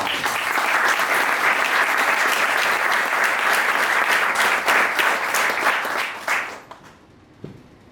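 Sustained applause from an audience honoring a Falklands War veteran at a cultural event, dense steady clapping lasting about six seconds before dying away into a few scattered claps.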